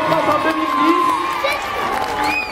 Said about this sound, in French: l'échiquier numéro 1, Michael Masson, on peut l'applaudir